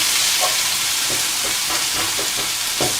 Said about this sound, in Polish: Tutaj kiełbasa, ono tutaj się naprawdę będzie wolno podsmażało